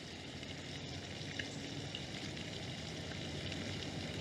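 Continuous sizzling of steak frying in butter in a hot pan on a camping stove, steady and close, with no talking.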